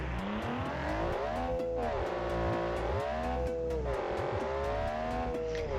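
A car engine in the game BeamNG.drive revs hard and climbs through the gears, its pitch rising and dropping with each shift, loud and continuous with a rapid ticking underneath.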